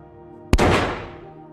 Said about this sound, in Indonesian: dia ditembak oleh seseorang